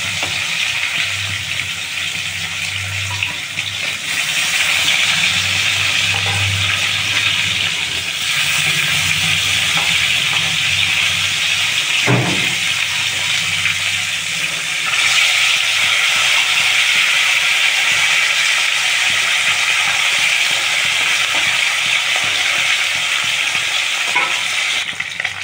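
Rohu fish pieces fry in a pan with a steady, loud sizzle that holds throughout, marked by a brief sharp clatter of a utensil partway through.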